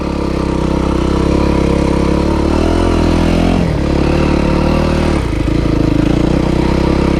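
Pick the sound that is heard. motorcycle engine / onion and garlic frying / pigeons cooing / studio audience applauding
motorcycle engine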